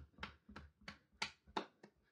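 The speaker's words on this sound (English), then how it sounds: "Keep clapping and stomping." Hands clapping and feet stomping along to a children's story time, six separate sharp claps with stomps in a steady beat, close and fairly quiet, with no talk.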